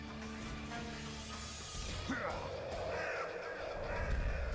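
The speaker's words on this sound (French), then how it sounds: "Ah ouais, c'est vraiment un gros corbac là." A crow caws over the soundtrack of a Naruto anime fight scene, with harsh calls rising out of a dense bed of music and effects.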